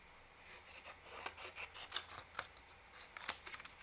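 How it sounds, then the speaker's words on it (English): Scissors fussy-cutting a paper cupcake shape, with quiet, close, irregular snips and rustles of paper in quick succession. "I'm gonna fussy cut this one out."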